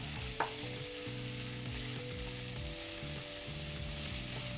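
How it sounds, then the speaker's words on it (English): Small amount of pre-chopped brown onions sautéing in oil, a loud, continuous sizzle with stirring scrapes. "I'm gonna go ahead and put a small amount of brown onions that are pre-chopped and saute those around."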